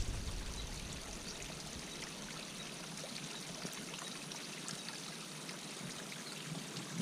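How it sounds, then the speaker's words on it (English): Small waterfall on a bush bridle track, a constant broadband rush of flowing water heard at moderate distance with no talking. "Oh, it's nice, the little waterfall still flowing."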